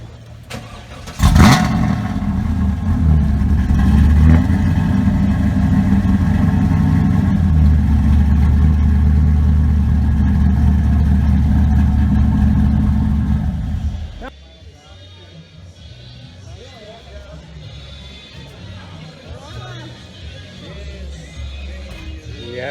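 A Chevrolet Camaro engine bursts to life and holds a loud, steady, throaty roar for about thirteen seconds, then cuts off abruptly, leaving quiet background noise.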